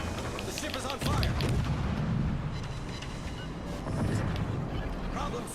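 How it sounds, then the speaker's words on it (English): Heavy naval gunfire fills a shootout in the World of Warships game. Dense, continuous booming and rumbling rolls on at a steady loud level, with a voice talking over it. "So there's just like a big time shootout right here"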